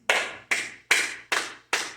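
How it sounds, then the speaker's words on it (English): Five hard, sharp hand claps ring out alone at an even pace, roughly two per second, each loud and close with a short decay. "So let's clap 10 times."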